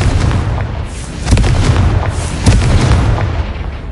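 Confringo spell blasts in Hogwarts Legacy erupt as heavy booming explosions, two sharp detonations standing out over a continuous rumbling roar, loud and close, with no voices.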